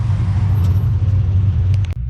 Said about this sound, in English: ready to go for that drive in this Caprice PPV. It's a 2012. It's got a camshaft, long tube, full exhaust, and a stall converter